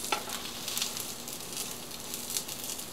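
An omelet sizzles and fries steadily in a pan, a continuous close crackling hiss with small bursts of spatter and no one talking.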